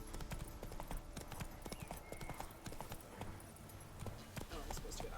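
Roach the horse trotting in The Witcher 3 game, steady clip-clop of hooves on a road with an occasional whinny, continuous beneath someone talking.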